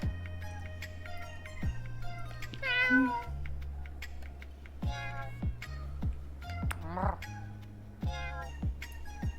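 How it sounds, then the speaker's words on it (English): A street cat in the video game Boyfriend Dungeon meows in a few clear, rising calls over a looping musical background with soft tones, fairly close and with no talk. "Oh, it's the mean street cat that we don't like."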